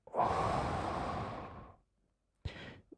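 A deep breath taken during a guided meditation session: a long, soft airy exhale lasting over a second, then a quiet pause and a shorter breath, close and gentle.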